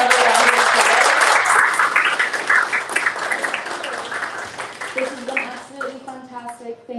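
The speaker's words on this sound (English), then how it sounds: "Can we please have another round of applause?" An audience at a book event in a bookstore and restaurant venue breaks into loud, dense applause that gradually thins and fades over several seconds, with a voice emerging near the end.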